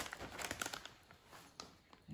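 Paper is peeled and crinkled off a layer of easy cheesy lasagna made with ground turkey, in soft, close rustling bursts with brief tearing sounds.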